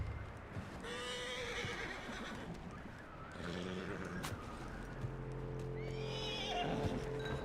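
A horse in Red Dead Redemption 2 whinnies in several loud, shrill neighs mixed with clip-clopping hooves and shuffling, heard close up with no talking.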